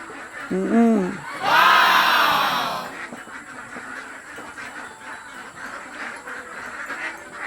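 Itik Pinas ducks on a Philippine farm, a couple of sharp nasal quacks near the start followed by a louder raucous chorus from the flock, then quieter murmuring and farmyard background.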